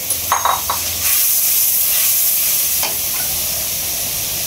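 River fish frying in hot oil gives a steady, close sizzle with soft crackles and bubbling spatters, loud and continuous with no talking.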